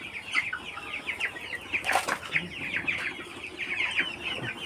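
Sonali local cross chickens on a poultry farm keep up a dense chorus of clucking and chattering, many birds close by, with a brief flutter of wings partway through.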